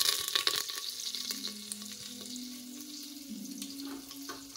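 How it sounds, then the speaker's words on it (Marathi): Garlic, cumin and curry leaves frying in a pan on a low gas flame, giving a steady close sizzle with occasional light stirring scrapes and small crackles throughout, no talking. "बारीक गॅसवर सगळं सामान चांगलं तळून निघतंय"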